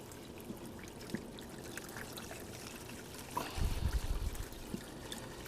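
Water trickles steadily and quietly as a pump washes gold panning concentrates, with a slightly heavier gush of flow partway through.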